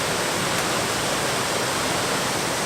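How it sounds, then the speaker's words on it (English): Mag-Aso waterfall in Bohol, Philippines, pouring as a steady, dense broadband rush of water, constant and fairly close with no voices. "This is Mag-Aso Waterfall"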